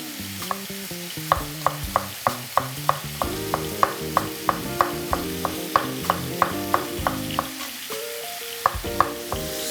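Knife finely cutting thinly sliced garlic and ginger on a board: a steady run of crisp, evenly spaced chopping taps, close and clear, pausing near the end before a few final cuts, with a low hum beneath.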